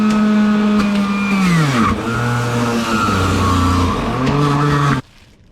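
A juicer machine grinds whole carrots and a piece of ginger, its loud motor whine sagging in pitch and recovering several times as pieces are fed in, then cutting off abruptly.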